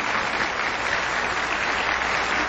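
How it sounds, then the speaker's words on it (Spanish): Dense, sustained applause from a concert audience at a mariachi tribute, steady and full for the whole stretch with no break. "Un aplauso para él."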